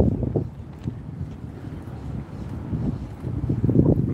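Gusty wind on a waterfront rumbles against the microphone in uneven low bursts, rising and falling, with no voices present.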